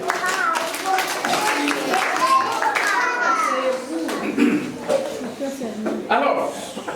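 Schoolchildren at a thanksgiving Mass clapping in scattered, uneven bursts while children's voices chatter and talk over the applause throughout.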